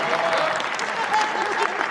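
Audience applause at a Hindi kavi sammelan poetry recital, a steady close patter of many hands clapping, moderately loud and even across the short moment, with no talk over it.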